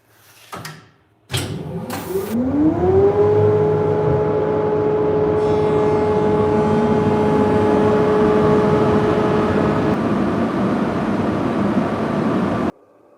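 A shaper router spins up and makes a template routing pass in wood, cutting down to 30 millimetres total depth: a rising whine settles into a loud, steady high-pitched hum under cutting noise before it abruptly cuts off.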